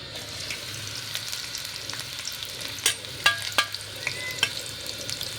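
Cabbage, onion and chilli stir-fried for fried rice, a steady sizzle in the pan with a few sharper crackles and scrapes of stirring partway through, close and alone with no talk.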